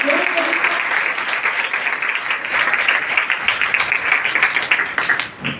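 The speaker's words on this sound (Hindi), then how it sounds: "बहुत सी तालियों में शुक्रिया अदा करते हैं।" Steady clapping from an audience at a college poster competition on saying no to corruption, thanking the judges; a continuous, fairly loud round of applause lasting several seconds before trailing off.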